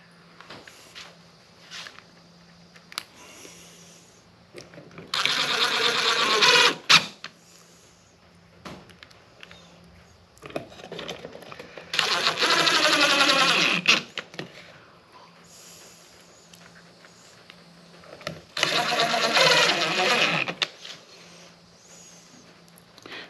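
A drill drives small 1 1/4 inch screws into a wooden bird house in three separate bursts of about two seconds each, with quiet handling noises between them.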